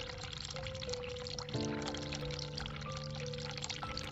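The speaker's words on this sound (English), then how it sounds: "Turn cold water on." Cold water runs steadily from a sink tap in the game The Cat Lady, a continuous pouring stream that swells a little partway through, with faint tonal game sounds underneath.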